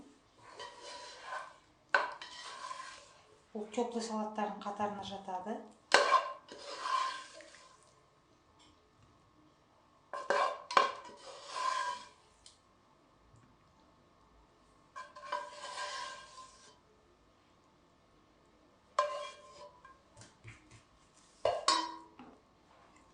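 A warm salad is spooned from a bowl into a smaller serving dish, giving sparse clinks and scrapes of utensil on dishware in short bursts, with a voice speaking between them in a quiet kitchen.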